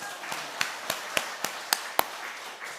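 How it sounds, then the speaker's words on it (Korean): A few people clap in a church worship service, with about six sparse, separated hand claps rising above a quiet room rather than full applause. "박수"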